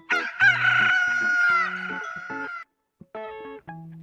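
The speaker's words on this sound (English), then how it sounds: "It's a rooster." A rooster crows with one long, loud cock-a-doodle-doo over faint background tones, then a short silence and a brief further sound.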